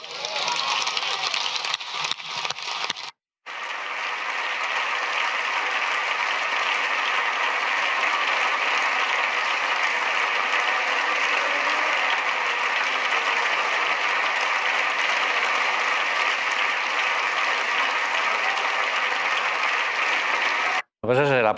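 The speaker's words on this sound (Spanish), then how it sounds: "Lo que pasa es el aplauso, un aplauso, la verdad, emotivo y largo" Long standing ovation in the Spanish parliament chamber, a broad, sustained wash of many hands clapping that holds level for about twenty seconds and breaks off with brief cuts near the start and end.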